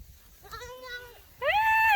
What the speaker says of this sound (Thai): ลูกแพะน่ารัก